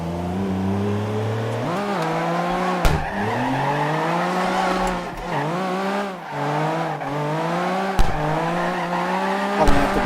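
Cars drift in the racing game CarX Drift Racing Online, engines droning loud and steady with revs rising and falling while tires squeal through the turns, with no talk.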